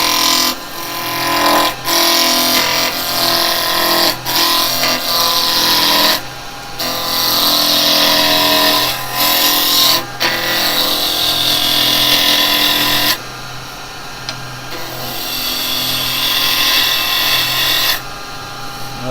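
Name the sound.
roughing gouge roughing down wood on a lathe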